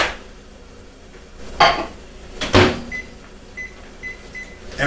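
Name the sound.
microwave oven heating food for 90 seconds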